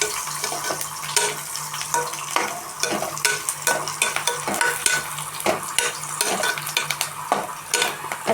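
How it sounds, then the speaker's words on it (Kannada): Chopped green chili and onions fry in hot oil, a steady crackling sizzle punctuated by frequent sharp clinks and scrapes of a spoon stirring against the pan. "ಇವಾಗ ನಾವು ಹೆಚ್ಚಿಟ್ಕೊಂಡಿರೋ 1 ಹಸಿಮೆಣ್ಸಿಕಾಯಿ ಹಾಕೋತಾ ಇದ್ದೀನಿ. ಅದು ಒಂಚೂರು ಫ್ರೈ ಆಗಲಿ ಎಣ್ಣೆಯಲ್ಲಿ."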